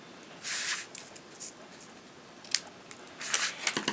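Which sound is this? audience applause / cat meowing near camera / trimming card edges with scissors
trimming card edges with scissors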